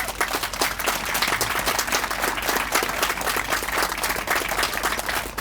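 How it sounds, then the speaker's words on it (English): A crowd applauds steadily at a library and community center grand opening, dense clapping filling the whole stretch at an even, moderately loud level. "Round of applause, please"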